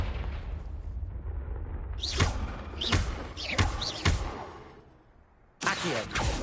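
Confringo blasting spells hit in Hogwarts Legacy with a series of sharp, booming impacts, about five in all, heard over a low rumble of the game's sound, with a louder burst near the end.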